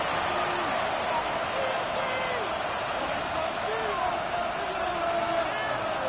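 Dense, steady roar of a football stadium crowd during a Broncos red-zone goal-line series, loud and continuous, with a play-by-play commentator's voice running over it.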